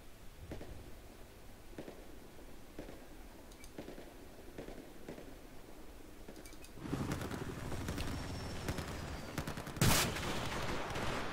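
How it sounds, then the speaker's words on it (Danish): Gunfire in the video game Battlefield 4, Conquest mode: a run of evenly spaced shots at first, then a denser, louder burst of automatic fire with a sharp blast near the end, no voices. "Nu bliver jeg så skudt åbenbart."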